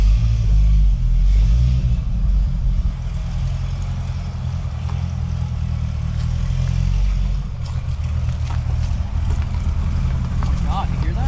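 A C6 ZR1 Corvette with a modified exhaust rumbles deep and loud from inside the cabin, a steady heavy drone with slight swells as it drives, while people talk over it.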